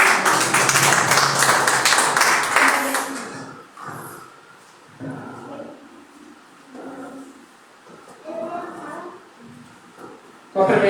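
A church congregation at a home worship service claps together in welcome, a dense burst of loud applause lasting a few seconds before fading into quieter talk.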